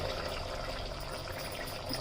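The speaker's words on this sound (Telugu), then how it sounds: "ఇప్పుడు కొన్ని వాటర్ పోసుకోవాలి, ఎక్కువ కాదు, జస్ట్." Water pours steadily into a cooking pot of Telangana-style boti curry, a continuous close rushing splash lasting about two seconds with no talking.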